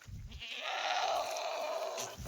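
A Kathiawari goat, one of a herd of pregnant does for sale, gives a single drawn-out bleat lasting about two seconds, fairly close and clear over quiet surroundings.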